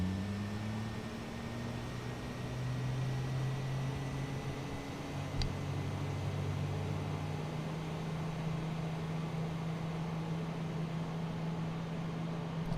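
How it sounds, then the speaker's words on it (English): An Airbus A320's number one engine spools up in the A32NX flight simulator game, a steady broadband hiss and whine with a low tone slowly rising in pitch, constant and moderately loud throughout, with no voices. "There goes engine 1."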